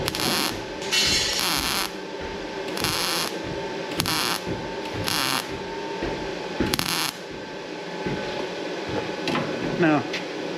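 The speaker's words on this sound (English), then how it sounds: "Now, I'm doing some pretty heavy tacks here." Heavy tack welds land on a 1966 Impala SS quarter panel, sounding as a series of separate hissing, crackling bursts, each lasting about a second, spaced by short pauses, with faint shop noise between them.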